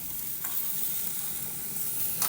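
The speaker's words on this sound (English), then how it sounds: "Check on the steaks. Looking pretty good." Steaks sizzling in a pan outdoors on a cold, rainy day, a steady broadband hiss at close range, with a brief scrape or stir near the start and another near the end.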